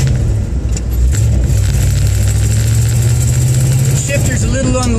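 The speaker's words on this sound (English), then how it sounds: "Motor runs great, brakes work great, car accelerates great." A bagged 1954 Packard with a mild cam and manual transmission accelerates, its engine holding a loud, steady low drone with rising pitch near the end, and wind and road noise throughout.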